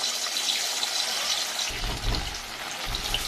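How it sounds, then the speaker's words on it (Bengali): Sabudana pakoras drop into hot oil and fry, a continuous bright hiss and sizzle with a few deeper bubbling bursts, close up and without talk. "এখানে আমি পাকোড়াগুলোকে এইভাবে তেলে ছেড়ে দিচ্ছি"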